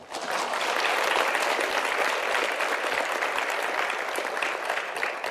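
An audience at a Korean forum on hydrogen hubs and green industrial complexes gives sustained, even applause, a dense roar of many hands that rises quickly and holds steady without speech.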